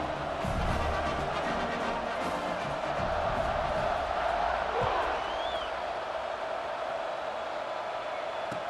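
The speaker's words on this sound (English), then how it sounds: "this crowd is feeling themselves after that last drive" A football stadium crowd roars steadily after a touchdown drive at a Boise State versus Georgia Tech game, a dense continuous wall of cheering with faint whoops rising out of it.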